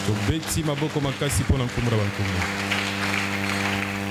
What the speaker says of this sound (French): Acclamons très fort pour le voir